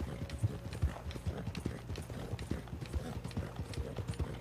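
Horse hooves clip-clop in a steady galloping rhythm in the Western video game Red Dead Online, with faint game ambience and no talk.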